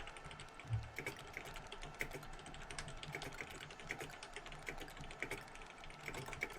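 Quiet, steady tapping of keys on a computer keyboard while playing the game Tower Unite, a soft continuous clatter of keystrokes with a few slightly sharper presses and no voices.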